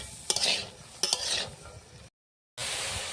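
Mixed vegetables and peas frying together in a pan for fried rice, a close sizzle with two bursts of stirring clatter early on, then a brief full silence before the steady hiss resumes.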